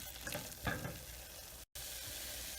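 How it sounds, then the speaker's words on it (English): Vegan scalloped potato sauce being stirred in a pan with flour, salt and pepper, a steady scraping, sizzling texture with a swell of stirring early on and a brief dropout near the end. "And stir it up for maybe about half a minute more, not too long."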